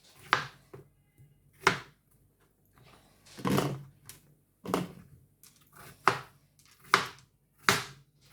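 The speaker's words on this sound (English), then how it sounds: "And then chop them into small pieces." A knife cuts de-seeded vegetables into small pieces on a board for a Bengali-style fish curry, about eight crisp, close chops at an uneven, unhurried pace in a quiet room.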